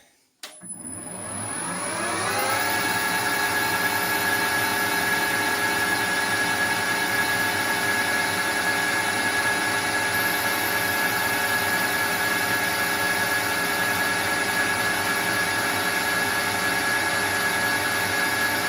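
A lathe spins up and runs steadily with a constant mechanical hum and high whine while a centre drill cuts dry into a bronze Acme nut blank, sustained and loud throughout.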